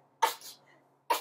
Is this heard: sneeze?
yes